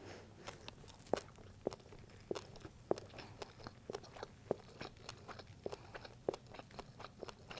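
Crunchy fish balls being chewed close to the mic, a steady run of sharp crisp crunches roughly every half second, with no talking over them.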